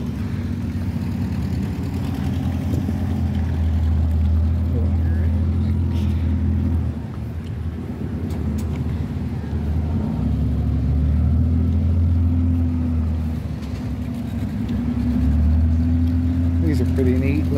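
A tractor engine at a tractor show running steadily with a deep, low rumble, its throb rising and easing at times, close by and continuous throughout.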